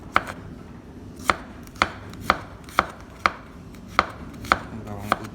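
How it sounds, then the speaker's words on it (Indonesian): Shallots are sliced thinly with a knife on a board for a spicy stir-fried beef dish, giving a steady run of about ten crisp, close chopping taps at an even rhythm with no talking. "bawang merah itu dirajang tipis semua."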